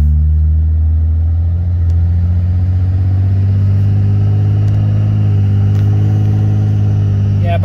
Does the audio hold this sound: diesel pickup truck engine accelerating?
yes